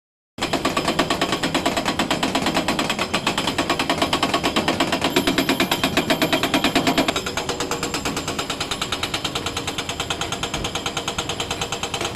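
An MTB 155 IQ hydraulic breaker hammers at a job site with loud, rapid, machine-gun-like blows, continuous throughout, the tone shifting slightly partway through as the rhythm settles.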